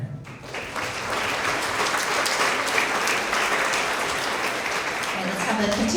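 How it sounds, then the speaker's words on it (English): Sustained applause from an audience at an elementary school year-end award assembly for 4th and 5th graders, steady dense clapping with a voice faintly under it. "let's have a continued round of applause for all of our 4th and 5th grade Tigers of the quarter"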